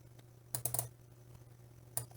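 A computer keyboard is typed on quietly, with a short cluster of clicks followed by a lone key press like Enter, faint over a low steady hum.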